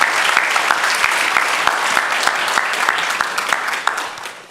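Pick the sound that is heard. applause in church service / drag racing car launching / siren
applause in church service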